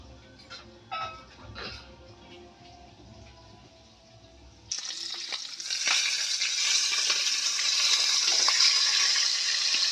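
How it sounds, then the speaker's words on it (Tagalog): Food frying and burning in a pan, a loud steady sizzle that starts abruptly and then keeps crackling, after a stretch of quieter kitchen clatter. "Wala, nasunog na yung piniprito ko."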